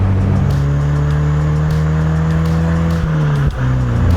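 Steady engine drone and road rumble inside a moving NC Mazda Miata on a winding road, with a constant low hum and a faint airy wind noise around it, no talking.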